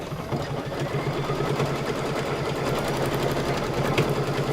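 An embroidery sewing machine stitches a placement stitch on white fabric, a steady rapid mechanical whir with fast regular needle ticks running continuously and close, with no talking.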